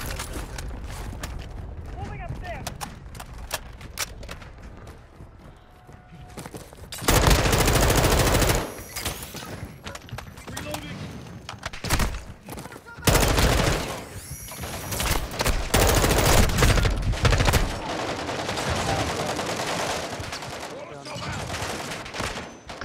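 Gunfire in Call of Duty: Modern Warfare II comes as loud bursts of automatic fire and fusillades, dense in the middle and second half, with quieter in-game clatter between them.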